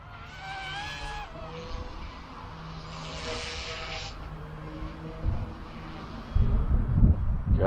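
A YU XIANG F08 Bell 206 RC helicopter flies with a whining rotor and motor tone that rises and falls as it moves about, ending in heavy low rumbling gusts near the microphone.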